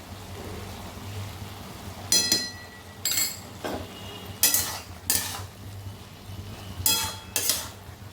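Ash gourd cooking in a pan and being stirred, its released water bubbling faintly under a series of close scraping and clinking spoon strokes spread over several seconds.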